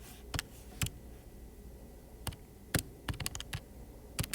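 Quick, irregular plastic key clicks from a calculator being tapped in short bursts of single and double presses, close and fairly crisp, with no talking in between.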